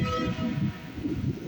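A Union Pacific grain train rumbles past a crossing in Dexter, Missouri, a loud continuous rolling roar with a steady tonal hum, heard briefly and close.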